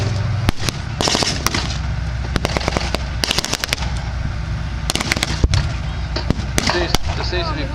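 Sharp bangs of artillery and gunfire ring out in irregular bursts and rapid volleys at a wartime battle reenactment in an outdoor arena at Yorkshire Wartime 2018, with an announcer talking beneath.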